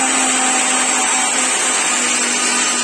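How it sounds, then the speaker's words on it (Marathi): A mixer grinder blends ingredients with water for Diwali garlic sev, a loud, steady, high-pitched motor whir running continuously throughout at close range. "अच्छा पाणी टाकलं याच्यामध्ये, आता हे मिक्सर मधून बारीक करून घेणार"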